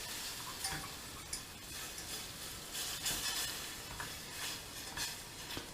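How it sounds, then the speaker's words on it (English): A whisk working milk and fish stock into a roux in a pan, soft rhythmic scraping and swishing strokes with a faint bubbling hiss, fairly quiet and without speech. "You have to keep this stirring all the time to stop it from going lumpy."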